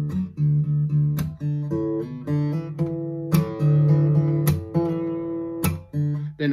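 Electric or acoustic guitar notes hammered on across the fifth and fourth strings and left to ring, a repeating low riff with sharp plucked attacks at a steady moderate pace, close and clear with no talking.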